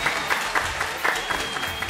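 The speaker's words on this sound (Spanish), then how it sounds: "Fuerte el aplauso." Audience applause at the Fiesta Nacional de la Vendimia 2019, greeting the harvest queens. Steady clapping fills the whole stretch with no voices, and the intensity rises and falls slightly.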